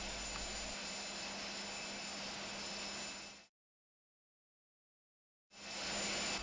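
Steady loud whine and roar of a Boeing 737NG auxiliary power unit in the iFly flight simulator, a continuous drone with a high tone, cutting to silence midway and then resuming just as loud.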